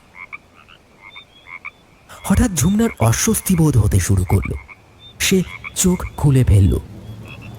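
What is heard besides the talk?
frogs croaking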